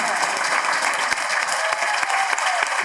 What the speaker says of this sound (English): So can I have a round of applause for that leadership team?